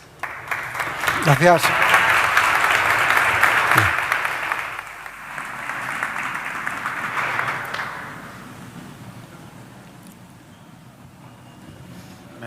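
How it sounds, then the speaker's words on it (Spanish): Audience applause for a panel of speakers at a Spanish-language real estate and investment event, a steady dense clapping that swells for several seconds and then fades, with a voice briefly speaking near the end. "un fuerte aplauso para ellos"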